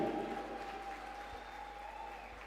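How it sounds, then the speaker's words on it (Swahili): Applause rises from a crowd at a live gospel worship event, a moderate clapping that is strongest at the start and fades gradually, with a faint tone in the background. "Wapi makofi mazuri ya Christine Okumu?"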